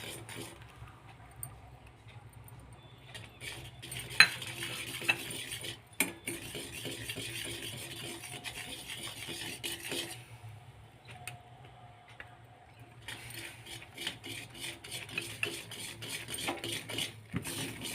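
A spoon stirs gram flour (besan) into boiling water in a pan over a low gas flame, making faint, steady scraping and rubbing with a few sharper clinks against the vessel.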